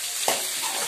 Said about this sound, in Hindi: अब टमाटर को भी डाल देती हूँ